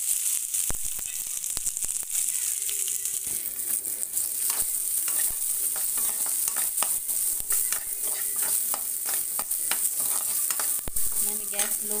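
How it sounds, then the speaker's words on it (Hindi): Chopped onion sizzles steadily in a pan over low flame, with frequent close scraping and tapping stir strokes throughout and no talking. "अब इसमें प्याज डाल देते हैं काटी हुई।"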